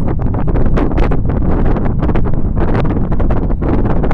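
Loud, gusting wind roars and buffets the microphone continuously, with constant rumbling turbulence and no voices.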